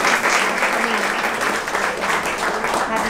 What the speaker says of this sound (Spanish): Un aplauso para nuestra artista de esta noche.